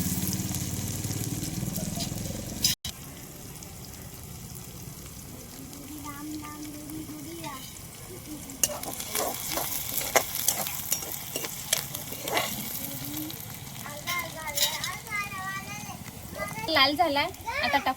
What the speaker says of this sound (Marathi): कांद्याला मस्त लाल होईपर्यंत परतून घेऊ.